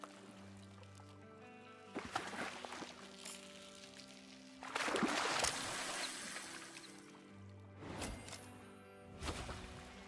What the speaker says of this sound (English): that waterfall was loud